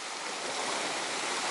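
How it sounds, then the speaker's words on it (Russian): Sea waves break on a beach at Gazipaşa, Turkey, giving a steady broad wash of surf and foam that swells slightly, with no voices. "здесь такие сильные волны"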